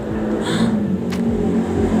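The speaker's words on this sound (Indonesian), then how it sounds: "Motor lagi guys." A motorbike passes outside on a street, its engine a steady low rumble and whir heard from a distance, with a brief higher swish partway through and no talking.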